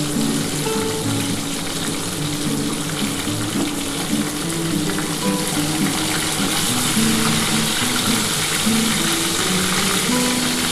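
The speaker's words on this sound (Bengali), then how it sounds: "একটু কড়া করে ভাজছি" Tilapia frying in oil in a home kitchen, a continuous loud sizzle with watery crackle lasting throughout, close and steady with no voices.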